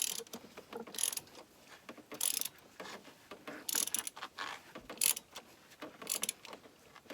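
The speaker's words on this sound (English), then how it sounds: "So I'm just going to put my ratchet back in there. Make sure I'm all the way on. And I'm just going to tighten it" A ratchet tightens the oil drain plug on an R56 Mini Cooper S with the N14 engine, giving repeated close, crisp clicking bursts with short pauses between them.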